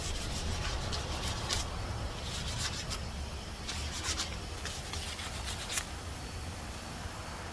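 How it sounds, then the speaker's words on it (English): A painted metal trim molding piece is sanded by hand, producing close, steady rasping strokes with bursts of brighter scratchy friction and no voices. "So I'm going to sand this down next."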